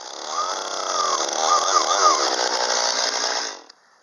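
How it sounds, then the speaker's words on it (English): A chainsaw with its bar buried in a log cuts a turning blank with a loud, steady, high-revving drone. The drone ends abruptly as the saw stops near the close. "this way the two halves will not pinch the bar of my chainsaw"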